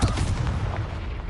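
A heavy booming blast from the Confringo explosive spell in Hogwarts Legacy rumbles loud and close, a dense low roar that fills the whole short moment.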